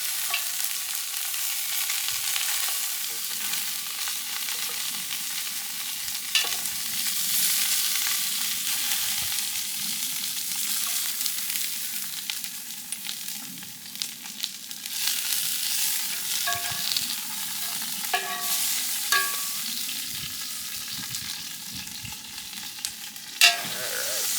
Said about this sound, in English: keep moving everything around in the pan so it gets to even heats and whatnot